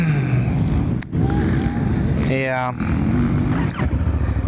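Engine of a Honda Africa Twin motorcycle on a motocross track, revving and dropping close by, with a brief buzzing rattle partway through, while a person speaks briefly over it.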